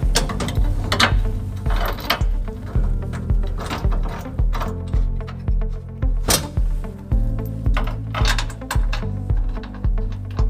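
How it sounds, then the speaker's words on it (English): Ratchet wrench driving trailer hitch bolts back into a 2005 Toyota Tacoma, a loud run of rapid mechanical clicks in repeated bursts, with metallic clanks between strokes and no talking. "we're going to put the bolts that we took out earlier, we're going to put those back into place"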